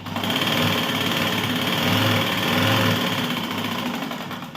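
A sewing machine runs steadily and fast, a close, loud mechanical whirr with rapid needle chatter as it stitches one edge of a fabric strip for a blouse.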